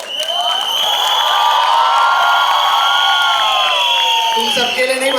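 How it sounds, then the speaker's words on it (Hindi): A crowd of media photographers and fans shouts and cheers continuously at a Bollywood film promotional event, a loud sustained din of many voices close by. "तुम सबके लिए नहीं बनाया है, तुम क्यों चिल्ला रहे हो?"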